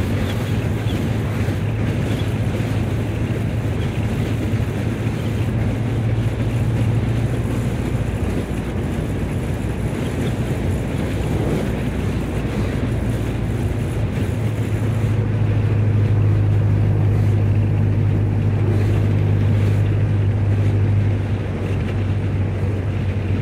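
A 1930 Ford Model A drives along, its steady low engine drone and road rumble filling the cabin continuously with a rising hum partway through, no talking.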